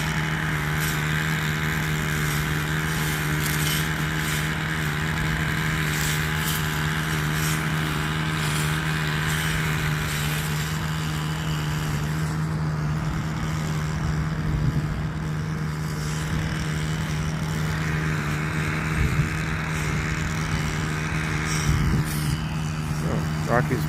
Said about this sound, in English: And we got the weed whacker over here making noise